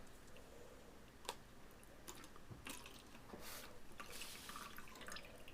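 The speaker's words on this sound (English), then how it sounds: "we're going to now pour that into the bottle" Old brake fluid is poured from a container into a bottle on a workbench, giving faint irregular trickles and drips under a steady background hiss, with no talking.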